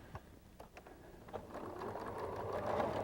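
A sewing machine stitches fabric hexagon blocks, starting with a few short bursts and then running in a steady, rising whir that grows louder toward the end, close by with no talking.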